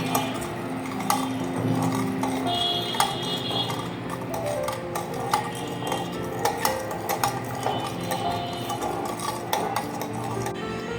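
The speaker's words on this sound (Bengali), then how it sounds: "আমি এখন পুরো মশলাটা সুন্দর করে মিশিয়ে নিব" A spoon clinks and scrapes against a bowl while biryani spice masala with a pinch of food colouring is stirred for a chicken kacchi biryani, making steady close metallic taps and scrapes with no talking.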